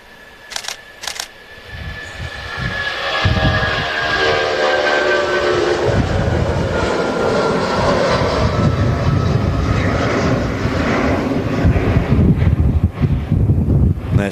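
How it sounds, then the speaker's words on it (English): A Boeing 757 takes off at Manchester Airport, its jet engines building into a loud, sustained roar with a whining tone that swells and holds near the listener, buffeted by wind noise on the microphone. "we've got the 757 now about to take off."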